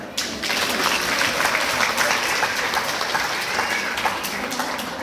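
Loud, sustained applause from a large audience at an International Women's Day programme, a dense steady roar of many clapping hands lasting several seconds with no talk over it.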